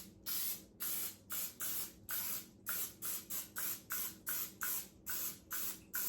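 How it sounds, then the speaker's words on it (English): Cooking spray oil hisses from an aerosol can into a bundt pan in about fourteen quick, evenly paced bursts, close and crisp with short gaps between them. "go ahead and spray it down with some spray oil"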